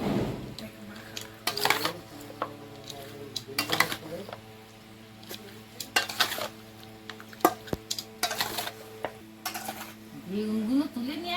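Raw onion sizzling in a little mustard oil on an outdoor Sundarban cooking fire, with repeated clattering of a utensil against the pot and stirring knocks over a low frying hiss. Voices talk faintly nearby.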